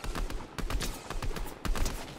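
Gunfire in the video game Fortnite during a no-build trio match, rapid bursts of shots in quick succession, dense and loud, with no talk over them.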